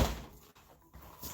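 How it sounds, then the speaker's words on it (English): A door swings shut at a house, giving a brief thump at the start followed by faint rattling and settling sounds, with no voices. "Get this door shut."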